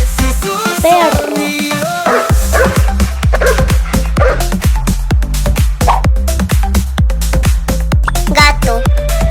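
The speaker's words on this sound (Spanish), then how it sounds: "Perro." A dog barks in quick repeated yaps, mixed into a cheerful children's song with a steady rhythmic beat running underneath.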